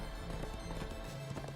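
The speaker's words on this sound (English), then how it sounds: "Colossus to the rescue, riding his horse" Horse hooves clip-clopping in Minecraft as a character rides, a steady run of soft thuds fairly close, with a little game background behind them.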